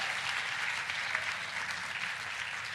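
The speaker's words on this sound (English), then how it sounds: "Please also give a warm round of applause to our food services team" Warm audience applause for a school district's food services team at a State of the Schools address, an even, dense wash of clapping that holds steady and alone throughout.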